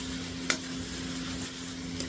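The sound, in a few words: shrimp sautéing in a pan on low flame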